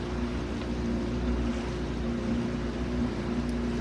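Rusty old propeller-driven boat passing on the Burnett river near Bundaberg, a steady low droning engine hum with a faint tonal whine, continuous and fairly loud, alone without speech.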